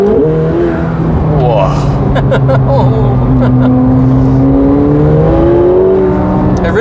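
A McLaren 750S accelerating hard on back roads, its engine revving up in loud rising sweeps heard from inside the cabin, with a brief exclamation from the driver over the roar.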